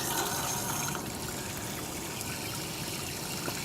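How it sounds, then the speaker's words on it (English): Water hisses and trickles steadily as it is let out of a well pressure tank, a faint continuous rushing flow with no voices. "So I'll let some water out of this tank"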